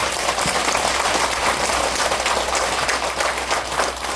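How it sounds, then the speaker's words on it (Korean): Audience applause fills a lecture hall after a talk on health science, a dense, steady wash of clapping that holds at full strength throughout with no voices over it. "박수 한번."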